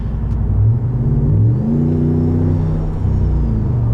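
A 2020 RAM 1500 Rebel pickup fitted with an S&B intake and exhaust accelerates, its engine droning up in pitch, easing briefly at a shift, then climbing again in a steady close-up rumble heard from inside the cab.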